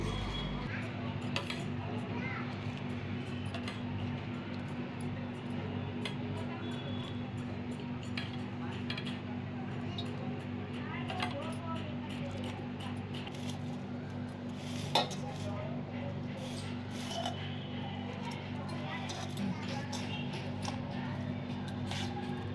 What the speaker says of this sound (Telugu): పులిహార పులుసు రెడీ అండి ఇప్పుడు అన్నంలో కలుపుతాను